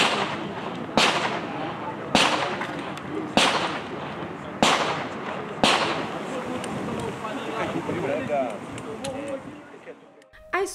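Five sharp gunshots ring out at regular intervals at a military shooting range, each with a loud crack and echoing tail, over a steady outdoor background.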